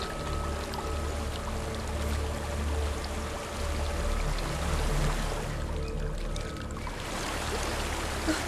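Water flows and pours steadily in Hellblade: Senua's Sacrifice, a continuous trickling, splashing wash at moderate loudness over a low ambient hum.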